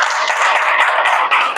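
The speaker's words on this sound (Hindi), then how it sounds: "एक बार तालियों के साथ मैं जरूर चाहूंगा कि स्वागत करें।" An audience claps steadily to welcome achievers at a business recognition event, a dense even wash of applause lasting the whole moment without a break.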